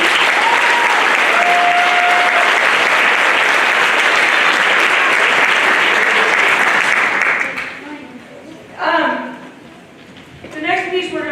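Audience applause fills a school Christmas band concert by 5th–12th grade players, steady and dense for about seven seconds before tapering off into a few scattered claps and voices.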